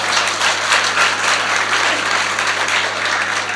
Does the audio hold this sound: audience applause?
yes